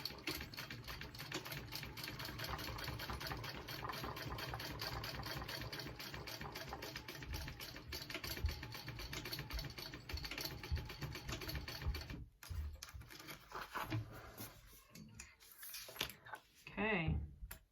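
Sewing machine running continuously while stitching diagonal lines across the corners of a Plumeria shoulder bag, a fast, even mechanical whir close by that stops briefly near the end, with someone talking over it.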